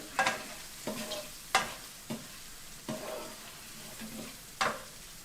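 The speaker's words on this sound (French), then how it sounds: "On continue à faire revenir donc nos crevettes avec notre ail." Shrimp and garlic fry in a pan while a utensil stirs them, giving a steady close sizzle broken by sharp scraping strokes every second or so.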